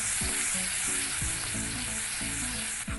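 Spice paste being sautéed in a pan for drumstick dal: continuous crackling sizzle close up, with regular rhythmic scrapes of a stirring spoon every half second or so.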